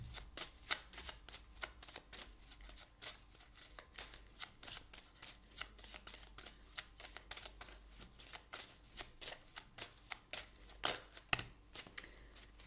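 Tarot cards riffle and shuffle by hand in a quiet room, a quick irregular run of close, crisp flapping bursts with no voices.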